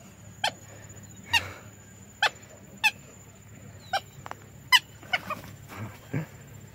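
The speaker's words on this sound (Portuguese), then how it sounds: "Você estava comentando esse pássaro aqui, a gente conhece como saracura." A saracura (wood rail) calls in the brush of a rural property, giving about nine sharp, loud cries at irregular intervals over a low, steady background hum.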